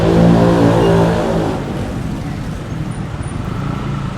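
Road traffic with car engines rolls past nearby, a loud low rumble that swells at first and then settles into a steadier, fainter drone.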